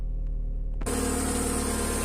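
A Seat Cordoba 1.6 engine runs steadily after an ignition coil replacement, its broad, even hum starting abruptly about a second in and continuing close and loud after a near-silent lead-in.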